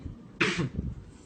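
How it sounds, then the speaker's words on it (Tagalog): A single harsh cough bursts out close by, followed by a brief rough tail, with quiet room noise before and after. "Normal nga ubo."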